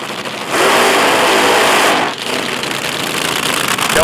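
Top fuel dragster engine at a nighttime drag racing event, a loud sustained roar with a brief dip midway before surging back, running alone without voices.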